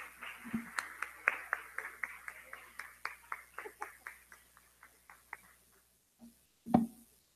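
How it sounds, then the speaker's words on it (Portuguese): Light, steady hand claps from a small church congregation during a Thursday service, a soft rhythmic pattern that slows and fades out, followed by a short burst of voices near the end. "Aplaudir, Senhor Jesus."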